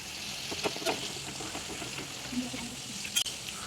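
Mackerel curry boils in a pan on the stove, a soft continuous bubbling hiss with a few faint clicks, quiet and close, with no talking.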